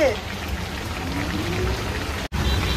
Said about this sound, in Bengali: দেখেছো বাবা কি বৃষ্টি পড়ছে, রেইন পড়ছে, দেখেছো কত কত রেইন হচ্ছে